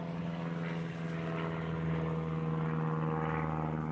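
Propeller aircraft drone overhead on a hot, dusty day, a steady loud buzzing hum with a strong low tone that holds throughout without a break.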